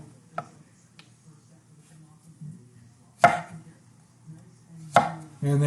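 A kitchen knife cuts into food on a cutting board: three sharp, separate strikes spaced a second or two apart, with quiet gaps and a faint low hum between them.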